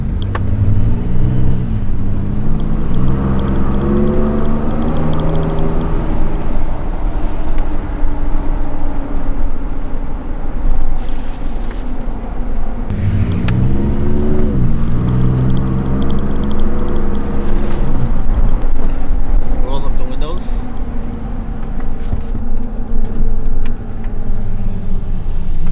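A Ford F-150 V6 EcoBoost pickup with a Magnaflow resonator delete accelerates repeatedly, its exhaust droning loudly and rising in pitch through gear shifts, heard from inside the cab with windows up over constant road noise.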